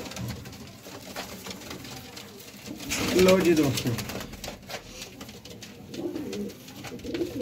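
Golden pigeons coo softly in a short burst of low, rolling calls, with a voice briefly speaking over them.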